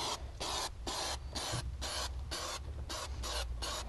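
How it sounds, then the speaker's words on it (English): Adhesive sprayed from a can onto the wheel hump of a classic VW Beetle during a headliner installation, a series of short, loud hissing bursts in quick, even rhythm, very close. "spray on the hump"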